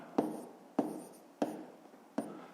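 Pen strokes on paper while working a fifth-grade maths exercise: four separate sharp taps, each followed by a short scratchy scrawl, evenly spaced and close, in a quiet room with no talking.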